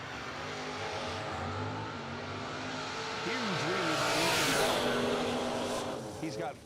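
Drag racing cars, one a Rattler Camaro, rev and roar at a strip, engine harmonics rising and sweeping as a track announcer talks over the noise.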